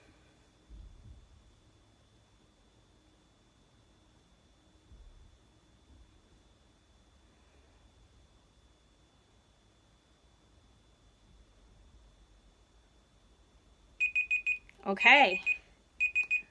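A timer alarm goes off after a quiet stretch, a close, loud run of rapid repeated beeps near the end, with a brief spoken word early on.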